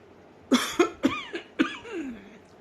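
An old woman coughs in a quick run of five harsh, rasping coughs, close and alone, the last trailing off into a wheezy breath.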